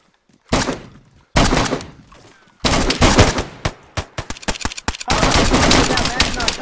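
Video game gunfire crackles in loud, close bursts, with single shots, rapid automatic strings and short pauses between volleys, and no clear talking over it.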